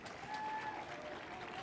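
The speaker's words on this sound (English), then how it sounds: "the crowd also applauding this effort from Cancun" A crowd applauds at a women's pro padel league semifinal in San Diego, a brief, diffuse patter of clapping from spectators with a faint voice over it.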